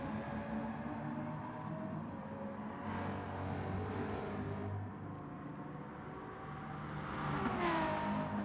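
A McLaren race car engine in a sim racing game drones steadily at moderate distance, its pitch rising and falling with gear changes, and the note swells near the end.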